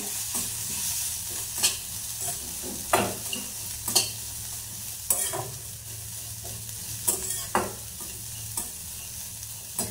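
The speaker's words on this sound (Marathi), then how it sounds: "आता याला छान मिक्स करून घ्यायचं आपल्याला।" A home cook stirs and mixes food in a frying pan, with a spoon scraping in repeated strokes over a steady sizzle, close and moderately loud, no talking.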